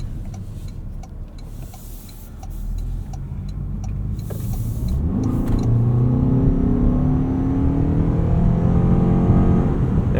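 A 2026 Toyota RAV4 GR Sport with its 2.5-liter engine accelerates, heard from inside the cabin: a low road hum swells midway into a rising, smooth engine drone that keeps climbing steadily to the end.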